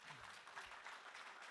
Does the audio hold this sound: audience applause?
yes